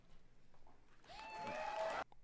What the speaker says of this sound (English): They clap that.